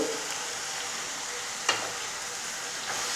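Brinjal frying in a pan gives a soft continuous sizzle, broken once by a sharp spoon-against-pan clink during stirring, with no one speaking.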